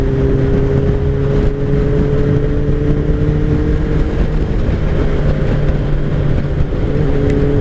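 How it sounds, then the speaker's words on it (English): A 2003 Kawasaki ZR7S motorcycle ridden at steady speed in fifth gear, its engine a loud continuous drone throughout, heavy with low rumble and wind. "Today we're riding a 2003 bulletproof Kawasaki."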